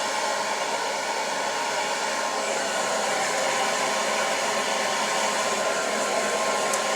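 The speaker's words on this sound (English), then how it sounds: "always blow drying down on your hair" A hair dryer blows hair downward, giving a loud, unbroken close-up whirring roar of air and motor that stays level from start to finish.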